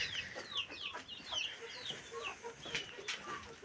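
Roosters and geese on a farm give a steady run of faint clucks and short calls, scattered through a few seconds without a clear crow.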